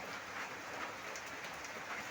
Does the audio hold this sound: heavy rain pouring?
yes